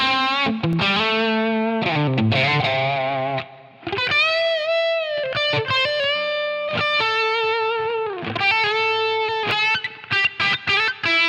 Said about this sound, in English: Now the reverb.